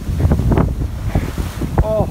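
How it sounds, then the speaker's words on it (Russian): Ocean waves and strong wind at Mudjin Harbor beach in Turks and Caicos, with wind buffeting the microphone and surf washing in loudly while people talk nearby. "Волна приличная на самом-то деле"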